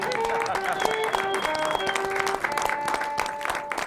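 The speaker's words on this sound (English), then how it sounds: "Round of applause again, please, for Damien Boucher." Studio audience applause at a late-night comedy talk show, a steady dense wash of clapping held for the whole stretch, with some tonal music running underneath.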